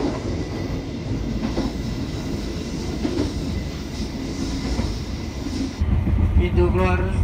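The Tawang Alun passenger train on the Banyuwangi–Malang line arrives close by at Malang station with a heavy rumble and rhythmic clacking of wheels, growing louder near the end, with some voices underneath.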